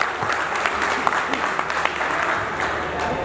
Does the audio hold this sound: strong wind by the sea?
no